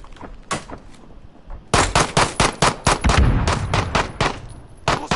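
Rapid bursts of gunfire ring out in a Call of Duty Modern Warfare infection match as shots pass through a glitched object, a few sparse shots followed by loud close automatic volleys in quick rhythmic clusters.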